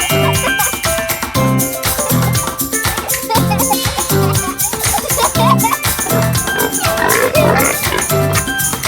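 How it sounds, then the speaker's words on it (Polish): A cartoon pig oinks a few times over bouncy, rhythmic children's music with tinkling accents. "Pig."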